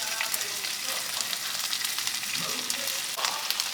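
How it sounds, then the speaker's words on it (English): Spinach wilting in a hot pan for a vegetarian pasta, a steady bright sizzle with faint stirring scrapes, close and continuous with no talk. "we don't need to cook the spinach too long. but just enough"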